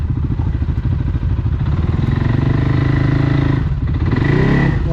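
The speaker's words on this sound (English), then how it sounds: "Just get a little throttle and just use your brake going down." ATV engine idling and lightly throttled while creeping down a steep rocky hill: a loud, close, steady putter with rattling clatter from the rough ground and a slight rise in pitch near the end.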